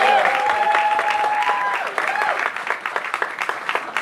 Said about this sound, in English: Give Josh one more round of applause